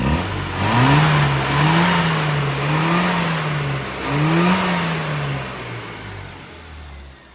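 A carburetted car engine with a worn carburetor revs after being dialled in, rising and falling in several close, loud surges over a steady idle, with no talk.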